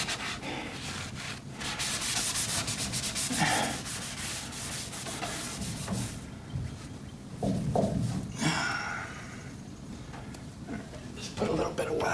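A cloth rubs wax onto the paint of a 1951 Ford pickup with a soft, continuous scrubbing sound in back-and-forth strokes, up close, with some brief pauses and a voice talking over it.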